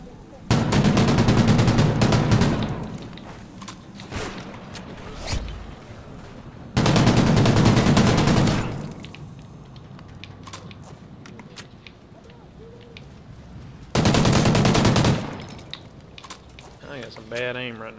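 Bursts of gunfire from the video game Call of Duty Ghosts, three loud sustained volleys of a couple of seconds each separated by quieter stretches of game noise, with a player talking over it.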